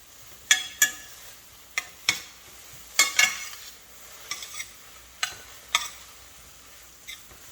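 A spinach mixture is stirred in a skillet, a run of sharp scraping strokes in an uneven rhythm over a faint sizzle, close and fairly quiet with no talk.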